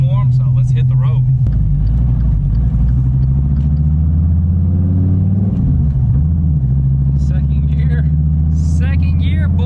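A 2014 Dodge Viper TA rolling slowly down the road from inside the cabin, its engine a loud, steady low rumble that briefly dips and swells, with people talking over it throughout.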